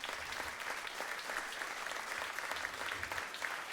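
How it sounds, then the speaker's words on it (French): A concert audience at the Festival des Grandes Marées applauds a performance, with steady dense clapping sustained throughout at an even level. "Vous pouvez les applaudir super fort."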